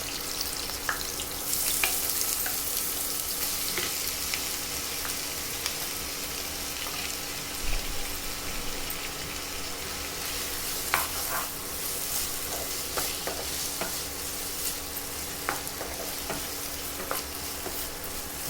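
Finely chopped onions with curry leaves fry and are stirred in oil in a pan, a constant close hiss of sizzling with scattered scrapes and clinks of the spoon.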